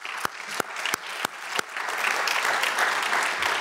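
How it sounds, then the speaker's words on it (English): Conference forum audience breaks into applause: a few separate sharp claps at the start, then building into a fuller, continuous round of clapping. "give an applause to Ashoka"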